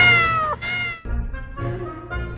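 A cat meows repeatedly in a quick series of close, clear, loud calls with rising and falling pitch, with no talking over them.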